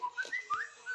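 A catchy whistled melody from a pop song, a few bright sliding whistle notes in a short rhythmic phrase, fairly clear with no voices over it.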